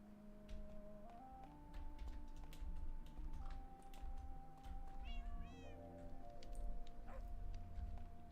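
A cat meows faintly in a Minecraft game, a few short mews rising over a steady hum of music and clicking keys.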